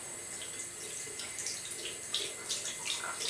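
Water runs from a tap while a menstrual cup is rinsed out at a sink, a steady faint hiss with small splashes and shifts in the flow.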